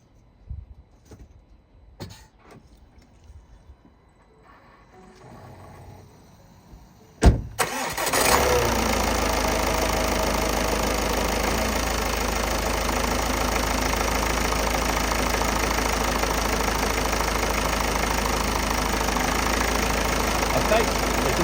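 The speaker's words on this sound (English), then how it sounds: "we can go and crank the engine over and make sure it starts" A Ford Focus 2.0 diesel engine is cranked after quiet clicks and handling noises, catches with a sharp burst and settles into a loud, steady, rough idle right up close.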